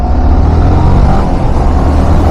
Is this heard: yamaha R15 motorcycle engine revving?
yes